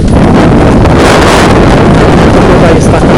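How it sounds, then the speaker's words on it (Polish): Cold wind buffets the microphone during a bike ride through the Mazovian countryside, a loud, continuous roaring rumble that drowns out everything else for a few seconds. "Chłodny wiatr wieje."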